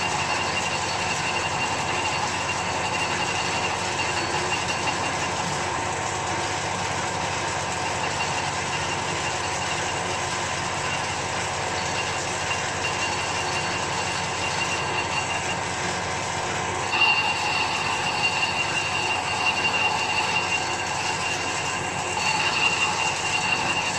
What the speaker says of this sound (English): So I'm going to get on and machine this side now.